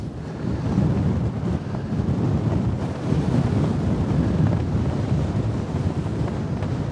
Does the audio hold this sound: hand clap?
no